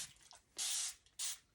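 Two short bursts from a spray bottle misting flyaways on a heat-friendly synthetic wig, close and crisp, each hiss lasting about half a second with a brief gap between.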